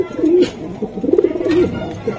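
Racing and Giribaz pigeons coo close by in repeated low, throaty rolling calls, loud and clear with a little background noise.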